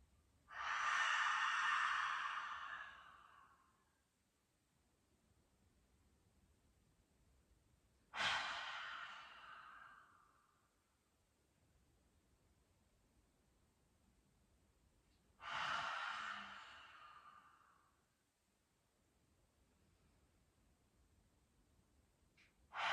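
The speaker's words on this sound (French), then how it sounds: "Prépare-toi à expirer par la bouche en tirant la langue." Three forceful open-mouth exhalations of lion's breath during a yin yoga session, each a loud breathy rush that fades out, spaced several seconds apart with quiet between them and no talk.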